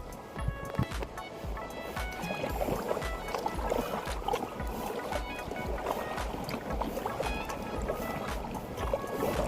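Kayak paddling in the Channel Islands sea caves, close choppy water splashes and paddle strokes with a busy, rhythmic slosh, reverberant and moderately quiet.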